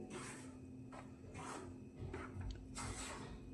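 A spoon scrapes repeatedly as wheat flour roasts in ghee over a low gas flame. Soft rasping strokes come in a steady rhythm, close and faint, with no talk.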